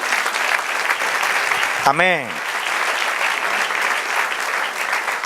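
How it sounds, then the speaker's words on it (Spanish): A church congregation applauds steadily and fairly loudly the whole time, a dense wash of clapping, while a single voice briefly calls out over it near the middle. "Dale un aplauso, Señor."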